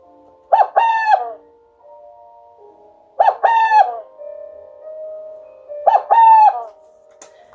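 Three evenly spaced, soft two-note hoots from a male burrowing owl's song, each a hollow cooing call, clear and close against near silence.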